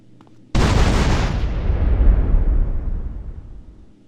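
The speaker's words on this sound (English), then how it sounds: "Place bombs on the 2 generators, exit the room, and detonate the explosives." Explosives planted on two generators detonate in GTA San Andreas, one huge sudden blast hitting hard and loud, then rumbling on and slowly fading over several seconds.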